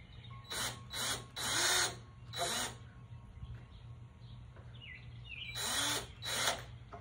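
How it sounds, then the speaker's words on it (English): A drill pre-drills holes into a wooden door shelf in several short whining bursts, three close together, then another, and two more after a pause, with faint birdsong in the background. "To pre-drill a few holes in the back so when I put the screws through the top and into the door frame, I don't want it to split."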